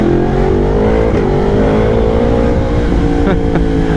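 A Yamaha MT-10 SP 2023 motorcycle on a test ride, its engine roaring loud and close with a steady high-revving drone that shifts pitch slightly as it pulls, no voices over it.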